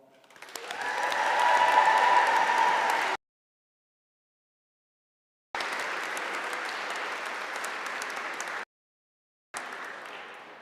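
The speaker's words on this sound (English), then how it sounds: "we're all going to give our first and last graduate the applause and the cheer" A graduation audience applauds in loud, dense bursts, the first swelling and lasting about three seconds, then two more separated by silent gaps.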